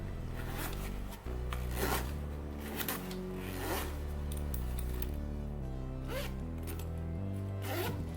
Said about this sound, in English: The zipper at the back of the bag has a paracord zipper pull.